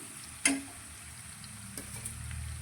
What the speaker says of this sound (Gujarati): તો ડુંગળીને આપણે 2 મિનિટ માટે સારી રીતે સાતળવા દઈશું।